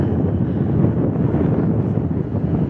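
Strong winter wind on lake ice in Yakutsk roars steadily into the microphone, a constant low rumbling buffet with no pauses and no voices.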